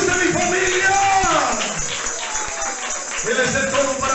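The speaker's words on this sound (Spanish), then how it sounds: "le damos palmas a Cristo" A church congregation claps for Christ, producing a steady wash of clapping and crowd noise that runs throughout under overlapping voices.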